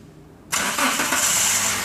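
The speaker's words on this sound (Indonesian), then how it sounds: "Maka mesin hidup normal seperti biasa." A car engine, with its fuel pump reconnected during tune-up practice, cranks and catches after a short quiet lead-in, then settles into a loud, steady, close idle.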